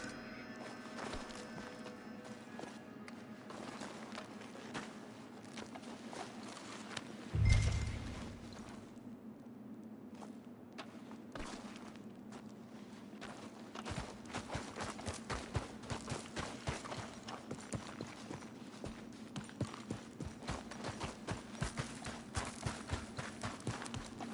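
Horse hooves clip-clop in Red Dead Redemption 2, a steady run of hoofbeats over a constant low game-ambience drone, with a brief heavy thump partway through and denser, quicker footfalls in the second half.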